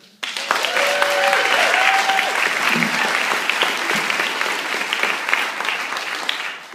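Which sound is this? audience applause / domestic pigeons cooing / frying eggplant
audience applause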